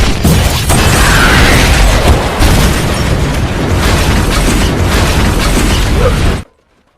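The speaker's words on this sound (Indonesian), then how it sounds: "karena gudang itu ada bahan bakarnya, ledakan dahsyat pun terjadi" A massive fuel-fed warehouse explosion in an action film roars loud and close, a dense sustained blast and rumble with debris crackling through it for several seconds before cutting off abruptly.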